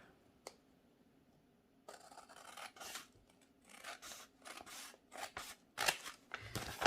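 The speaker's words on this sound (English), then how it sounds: "I'm going to trim this off up here." Scissors trimming paper for a junk journal, heard after a single early click as a run of close, crisp snips and rustling cuts in an irregular rhythm, quiet and alone with no talk.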